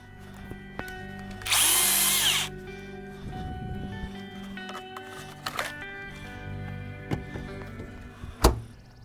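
A Husqvarna cordless saw whirs loudly in a short burst of about a second, with intermittent knocks and clunks around it and a sharp bang near the end, out in a yard.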